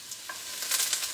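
Hot oil sizzles in a pan with celery and onions, a soft, steady crackle with a few light stirring scrapes over about a second.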